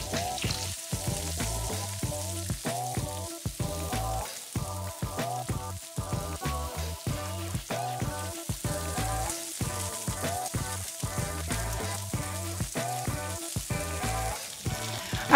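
Salmon fillets fry in a pan, making a continuous close crackling sizzle with lively popping and spitting and no talking.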